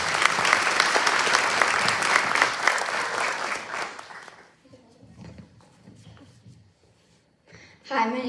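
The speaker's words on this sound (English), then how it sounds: "Let's give her a round of applause." An audience at a princess pageant applauds a contestant, loud, dense clapping for about four seconds that fades into scattered claps and quiet room noise, with a voice returning at the end.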